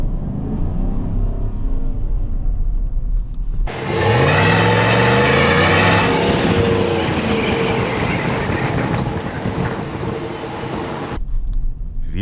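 GMC Sierra SLT V8 with a 10-speed transmission accelerating uphill on an uneven path, its engine note swelling and rising in pitch for a few seconds before settling into a steady drone.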